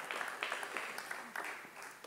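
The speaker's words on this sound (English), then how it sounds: "let's give him a round of applause" Faint applause at a cryptocurrency conference talk, heard as a soft, distant wash of scattered clapping throughout.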